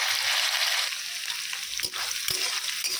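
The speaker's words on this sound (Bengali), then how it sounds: "হালকা ভাজা হোক" Sliced carrots and long beans fry in a pan for vegetarian soybean chow mein, giving a close, steady sizzle with a couple of brief scraping stirs and knocks partway through.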